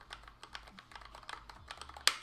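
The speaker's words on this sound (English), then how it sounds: "Hopefully you guys can hear that for a sense of how loud the keys are." Keys on an Acepha T9 Pro keyboard clack in a brisk run of close, distinct presses, ending on one sharper, louder strike, with no voices.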